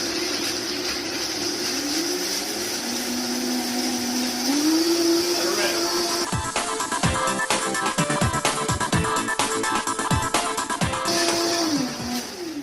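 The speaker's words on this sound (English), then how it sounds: "now we're gonna let them grind up in this blender for about 3 minutes" A blender whirs loudly and continuously grinding pistachios into paste, its motor pitch shifting as speed changes, with a harsher, rattling grinding stretch in the middle.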